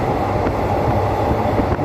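Train rolling through a Bangkok rail station on the Red Line toward Bang Sue, a steady loud rumble of wheels and carriages with faint clicks, continuous and close throughout.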